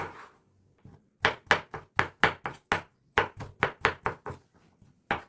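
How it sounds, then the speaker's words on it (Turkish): A knife chops two small tomatoes finely on a cutting board, about a dozen crisp, evenly spaced strikes in two quick runs, close and clear with no talking. "2 adet küçük boy domatesimizi de ince ince doğruyoruz."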